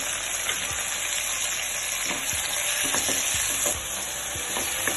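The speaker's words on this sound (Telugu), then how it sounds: "టమాటాలు కొద్దిగా సాల్ట్ వేసి మగ్గనివ్వాలి." Tomatoes with a little salt softening in a pan for an egg curry, a continuous close sizzle broken by light repeated taps and scrapes of a spoon stirring, and no talk.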